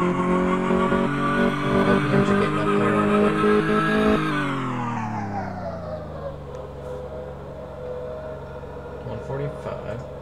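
A car engine in Car Mechanic Simulator drones loudly with a strong harmonic hum that climbs steadily, then drops in pitch and settles into a quieter steady run.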